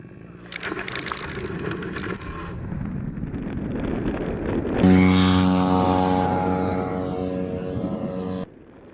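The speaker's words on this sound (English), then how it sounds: "The Volga tug aircraft is towing with its flaps out" A radio-controlled Volga tug aircraft with flaps out towing a Slingsby T21 glider, its engine droning loud and close with a steady buzzing hum that swells and holds, mixed with wind rush.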